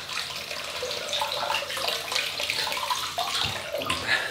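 Hot water running from a tap for a shaving brush, a steady close splashing stream that continues unbroken for the few seconds heard.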